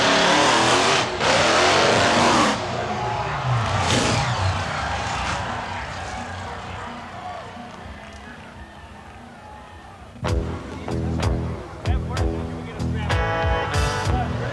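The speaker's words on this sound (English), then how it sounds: "the trucks go tearing across a stack of crushed cars" Monster trucks roar across a stack of crushed cars at a 1991 crushing show, with loud engine revving and rumble early on that fades. Sharp metallic crunches and bangs follow near the end.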